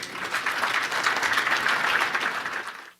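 Warm, sustained applause from a conference audience at a farming event welcoming a speaker, many hands clapping steadily for about three seconds before fading out.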